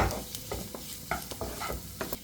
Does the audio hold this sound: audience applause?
no